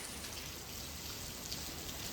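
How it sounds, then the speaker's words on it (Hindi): Heavy rain pours steadily in an August downpour, a dense, continuous hiss of drops drumming on surfaces, close and even throughout with no voices. "कब से इतना बारिश होने लगा है बे।"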